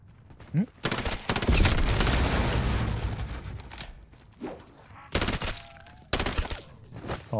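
Gunfire and explosions from the Call of Duty MWZ zombies mode: a long rolling burst of shots and booms, then several sharp separate blasts, with quiet gaps between them.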